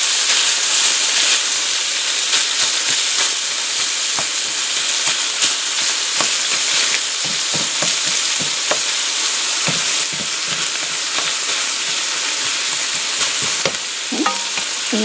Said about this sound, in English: let's have a little more cooking of the beef to do here, beef and pork